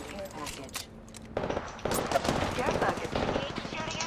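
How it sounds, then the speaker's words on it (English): Automatic gunfire in the battle royale game Apex Legends, rapid bursts of shots crackling loudly through the mix with game ambience, heavier volleys starting partway and continuing to the end. "Oh, they shooting. Come on. They're shooting at me."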